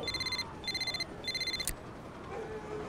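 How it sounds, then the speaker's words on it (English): A telephone rings in three short, even bursts with brief pauses between them, faint and steady against a quiet background. "Rob, get the phone."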